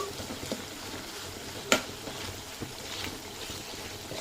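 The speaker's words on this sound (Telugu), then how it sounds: "చికెన్ చూడండి మంచిగా వేగుతుందండి." Chicken pieces frying with onions and salt in a pan at home, a steady close sizzle and crackle with one sharp tap of a utensil partway through, and no talk.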